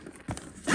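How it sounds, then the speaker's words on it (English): A zipper is pulled open on a Mumba carry case for the Nintendo Switch OLED, a quick close ripping rasp that builds toward the end, with no voices. "2 zippers. Go ahead and open it."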